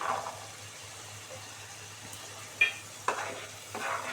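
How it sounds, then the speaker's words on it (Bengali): A soft sizzle of spice paste with shelled green peas frying in a wok, with a couple of sharp scraping stirs near the end; no voices. "দিয়ে এটাকে ভালো করে মশলাটা কষানো হবে"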